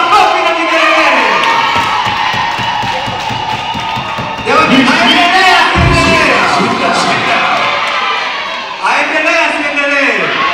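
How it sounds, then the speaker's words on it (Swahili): A crowd at a traditional wedding claps, cheers and ululates loudly, with high trilling voices and shouts rising in waves over a steady clamour. "Pigia Yesu makofi na vigelegele."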